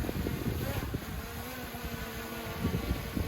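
A small DJI Mini 3 drone's buzzing whine holds steady over gusty wind rumble against the microphone, with no voices.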